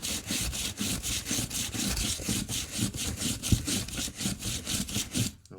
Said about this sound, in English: Take the sandpaper, lay it down, then drag it on there.